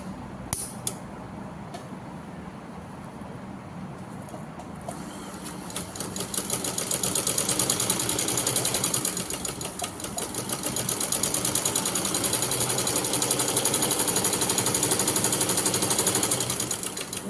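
Sewing machine stitching a line of fabric, starting with a few faint clicks and then settling into a loud, fast, steady mechanical rattle that runs continuously to the end, no one talking.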